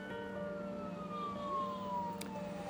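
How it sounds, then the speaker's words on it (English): A wailing police escort siren sweeps slowly downward in pitch, loud and continuous, heard from inside a prison van over a steady low vehicle rumble. "Suddenly the sirens become deafening in the van."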